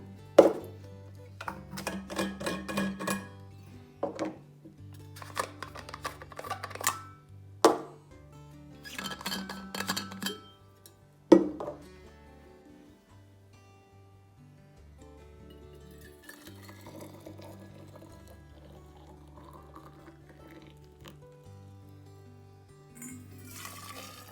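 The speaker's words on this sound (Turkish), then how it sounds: "termosların kapağını açıp sıcak suyla dolduralım" Stanley Adventure 1-litre thermos lids clink open and hot water pours in, with bursts of clattering metal handling and liquid filling, followed by quieter steady pouring and trickling.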